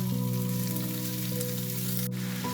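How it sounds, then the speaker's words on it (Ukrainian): Thin strips of pork fry in a pan with a little oil, giving a steady, even sizzle at close range that runs through the whole stretch with no talking. "На розігріту пательню вливаю буквально граминку олійки, викладаю наше м'ясо"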